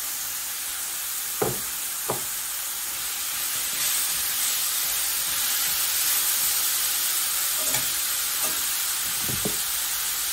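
A pound of beef stew meat sizzling in a pan with softened onions, a loud, dense and continuous frying hiss heard close up, with a few brief knocks and scrapes scattered through it.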